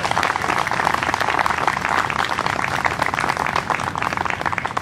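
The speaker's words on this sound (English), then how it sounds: "Please give a round of applause for our stage leader and conductor, Elisa Koehler." Audience applause for a conductor at a band concert, a dense, steady wash of many hands clapping that holds at full strength throughout.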